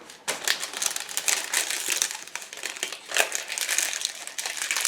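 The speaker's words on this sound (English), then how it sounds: "now I have the parchment paper. Just wrap it with this." Parchment paper crinkles and rustles loudly up close as it is folded around freshly made homemade mozzarella cheese, a continuous run of sharp crackles with brief pauses, no talk.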